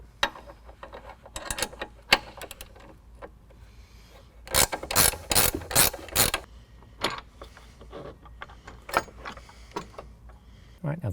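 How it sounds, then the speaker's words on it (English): A ratchet loosens 17 millimeter bolts on a running board bracket of a 2011 Jeep Grand Cherokee, making bursts of quick clicking and metallic rasping, one dense run in the middle, with brief speech mixed in. "Now it may be necessary to loosen up the 17 millimeter bolts on this bracket"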